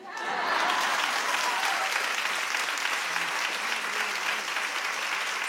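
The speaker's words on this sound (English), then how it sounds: "Clap if she needs to stay to show them." Studio audience applauding steadily, a dense, sustained wash of clapping that swells in quickly and holds at an even level throughout, with no talk over it.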